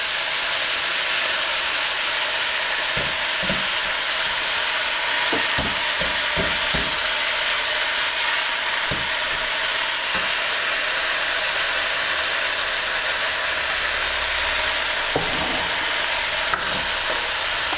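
Satay beef and sauce stir-fry in a wok for a Chinese takeaway-style dish, producing a loud, unbroken roaring sizzle with scattered clacks and scrapes of a spatula, close up and without speech.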